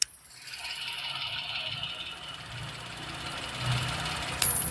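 A Maruti Alto 800 VXI+ engine idles with a steady, faintly rattling hum, heard up close and fairly quiet, with no talking.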